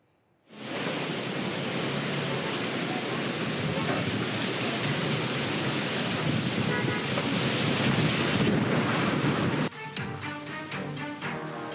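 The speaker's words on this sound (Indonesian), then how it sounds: "Hujan deras dan angin kencang melanda wilayah Jakarta Timur Minggu sore" Heavy rain pours with gusting wind in East Jakarta in a dense, steady roar, loud throughout, with a brief shift in tone near the end.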